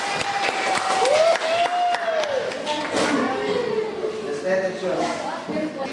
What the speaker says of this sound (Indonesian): Tepuk tangan untuk Firqatul Hamsa